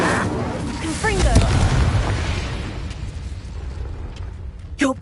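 Confringo spell explosion in Hogwarts Legacy, a booming blast with a burst of crackle and rumble near the start, then decaying debris noise and a sharp pop near the end.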